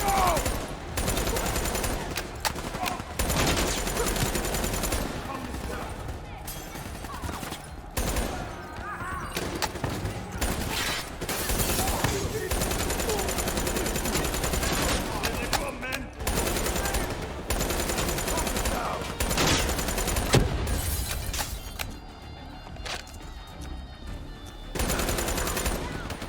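Sustained automatic gunfire and bursts of rifle fire in the Call of Duty: Black Ops 3 campaign, fighting through Cairo streets, loud and nearly continuous with brief lulls and shouted voices mixed in.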